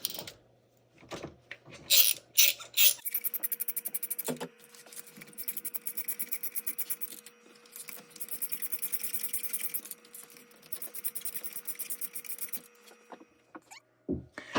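A socket wrench loosens spark plugs on a Yamaha WaveRunner, giving quiet bursts of rapid ratcheting clicks in an irregular rhythm with short pauses between them, close by and faint.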